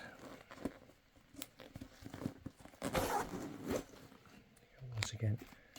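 Zips on a Three Peaks 30-litre Nomad hybrid backpack being opened, heard as short quiet rasping pulls and fabric rustle close by, faint overall.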